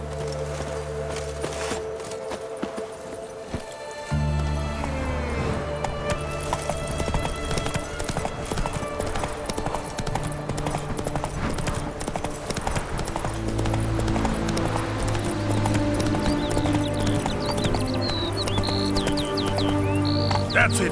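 Rhythmic clip-clop of the horse Roach galloping in The Witcher 3, steady hoofbeats running under a dense bed of game music and effects throughout.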